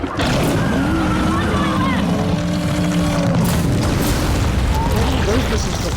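A missile launch and explosion in the video game Gears of War 4, a sustained loud rumbling boom with whooshing tones, continuous and close, with voices speaking over it.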